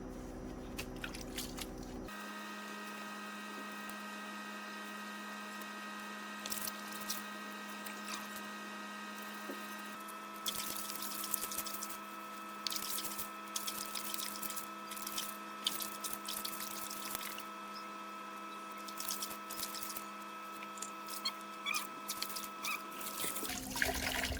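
A pet is bathed with water in a rural Vietnamese family home: trickling, dripping and squishing wet sounds continue unevenly, with a louder, busier stretch of splashing and rubbing partway through.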